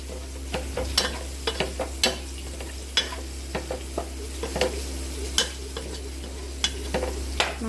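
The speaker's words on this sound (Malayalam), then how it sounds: "അപ്പം നമ്മൾ മല്ലിപ്പൊടി ഇട്ട് ഇവിടെ ഇളക്കിക്കൊണ്ടിരിക്കുകയാണ്." A spatula stirs coriander powder into sautéed onions in a pan for a home-style chicken curry, giving repeated close scrapes and clicks over a soft sizzle and a low steady hum, with no talk.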